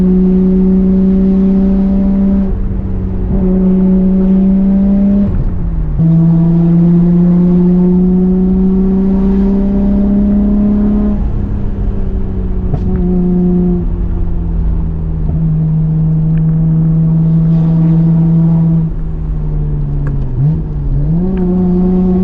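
A Nissan R32 GTR drives and accelerates, its engine holding a steady loud drone that climbs through several gears with brief dips at each shift, heard close without any talking.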